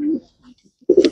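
A distance racing pigeon from a champion loft coos in soft, low throaty bursts: a short phrase, a brief faint murmur, then several close, louder coos bunched together at the end.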